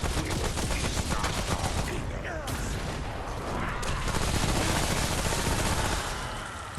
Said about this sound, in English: Whenever you hear those horns, he's calling in a volley.